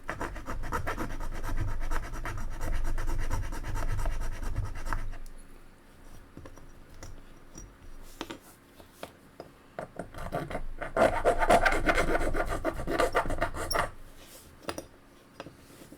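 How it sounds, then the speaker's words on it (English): Steady rasping strokes of a metal file scraping back and forth on the metal posts of a Hot Wheels die-cast car, fairly quiet and close, with a pause in the middle before filing resumes. "File the posts down so we can get those ready for drilling."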